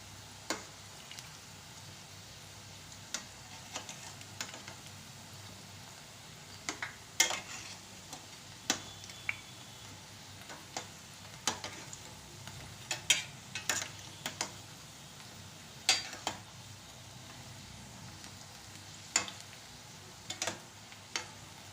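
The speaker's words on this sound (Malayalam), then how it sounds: "നമ്മുടെ ഉള്ളി ബോണ്ട മൂത്ത് വരുന്നുണ്ട്." Onion bondas fry quietly in hot oil with a soft continuous sizzle, broken by scattered light clicks and taps of a spoon turning them; fairly faint and steady throughout, with no talking.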